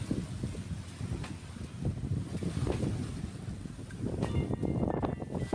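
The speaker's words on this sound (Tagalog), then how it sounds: "malakas yung hangin" Strong wind from a low pressure area on Burias, Philippines, buffets the microphone in steady, heavy gusts, a rumbling roar that swells and eases without letup.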